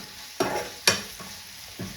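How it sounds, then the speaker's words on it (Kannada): Onions frying in a pan, with a steady low sizzle under a few sharp stirring scrapes, close and fairly loud, no talking. "ನೀರುಳ್ಳಿ ತೆಗೆದೆ, ಫ್ರೈ ಆಯಿತು."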